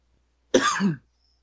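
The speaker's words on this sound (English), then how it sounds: "Sorry, I had to cough a little bit." A single short cough, close and clear, in otherwise quiet surroundings.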